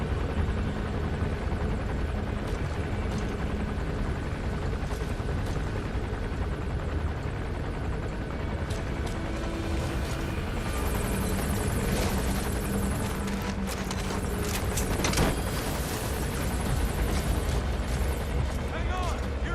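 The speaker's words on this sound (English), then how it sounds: "Where the hell is this chopper at?" Helicopter overhead in Metal Gear Solid V: The Phantom Pain, a loud continuous rotor roar filling the whole scene, mixed with gunfire and chatter, growing busier toward the end while voices talk over it.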